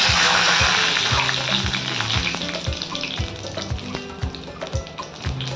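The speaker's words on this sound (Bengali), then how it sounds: "তেলেতে কিছু গোটা ফোড়ন দেবো, মশলা, তেজপাতা, দারচিনি, 2টো এলাচ নিয়েছি থেতো করে, লঙ্কা আর জিরে" Whole spices hit hot oil in a wok: bay leaf, cinnamon, two crushed cardamom pods, chillies and cumin, a loud sizzle that rushes up at first then eases into steady crackling over faint rhythmic background beats.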